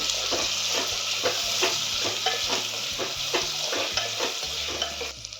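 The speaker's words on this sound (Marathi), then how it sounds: "अशी काजूची जी प्युरी केली ती टाकूया आपण ती चांगल्या प्रकारे हलवून घेऊ" Cashew puree being stirred in a pan for a veg handi curry, with regular scraping strokes of a spoon against the metal over a soft, steady sizzle and no talking.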